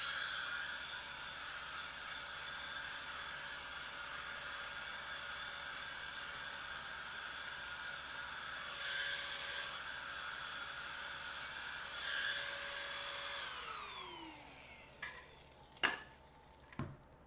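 A small handheld vacuum cleaner runs steadily while cleaning a damaged Nintendo Switch, a constant whine that holds for most of the clip, then winds down and stops, followed by a few faint clicks.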